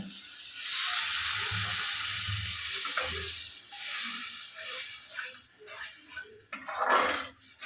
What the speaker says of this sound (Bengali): এবার আমি এখানে জল দিয়ে দেব।